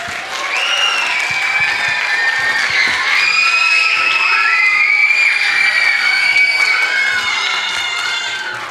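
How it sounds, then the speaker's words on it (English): A school audience at a Grade 4 theatre festival bursts into sustained applause mixed with children's cheers and shouts, loud and continuous for several seconds. "Let's give them a round of applause."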